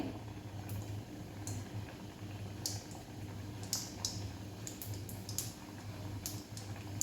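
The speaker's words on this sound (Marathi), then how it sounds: "तेल चांगलंच गरम झालं आहे बघा फ्राय होत आहेत कापण्या आपल्या" Bajra and jaggery kapnya fry in hot oil, giving a soft continuous sizzle and bubbling, broken by sharp crackling spits scattered throughout, close up and with no one speaking.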